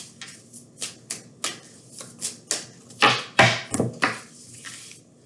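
Tarot cards riffled and shuffled by hand in a series of quick, crisp bursts, close up, with short pauses between each shuffle.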